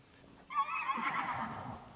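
A single horse whinny in The Legend of Zelda: Tears of the Kingdom rings out, a bright shaky neigh lasting over a second against quiet background.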